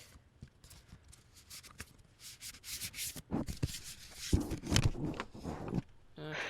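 A deck of playing cards is shuffled right up against the microphone in irregular soft riffling and rubbing bursts, quiet at first and then louder and choppier toward the end.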